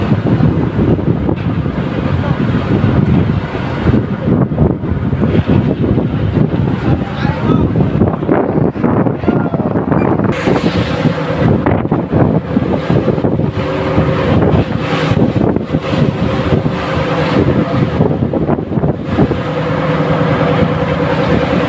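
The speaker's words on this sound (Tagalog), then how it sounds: "So nag-travel kami ngayon kahit na medyo na malalaking alon. Bali, hangin na naman yung malakas." A boat at sea in strong wind and large waves gives a constant loud roar of wind buffeting and rushing water, with an engine-like hum joining later.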